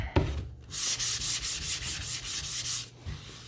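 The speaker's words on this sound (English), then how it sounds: "I'm just going to take my sandpaper and do a light sand over top." Sandpaper is rubbed by hand over a wooden Christmas tree sign in light, even back-and-forth strokes, about a dozen close, soft rasping swipes in steady rhythm.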